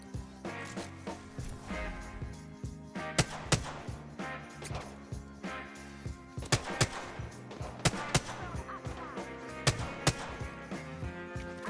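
Video game gunfire cracks in quick bursts and single shots, loud and close over a busy layer of in-game music and effects, with no voices.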